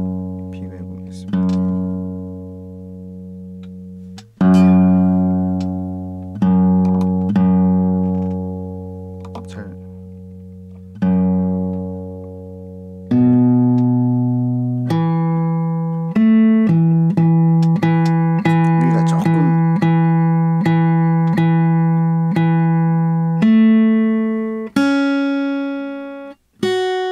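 A guitar fitted with a tightly clamped G7th Performance 3 capo rings out in a series of plucked notes and strummed chords, each left to sustain and decay, with a slight wavering beat in the held tones.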